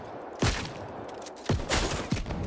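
A blunderbuss fires in the New World video game, three loud booming shotgun blasts spread a second or so apart, each with a scattered pellet crackle and a short decaying tail.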